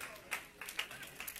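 A church congregation claps in scattered bursts during a sermon on righteousness and reconciliation, fairly faint and uneven, with voices murmuring beneath.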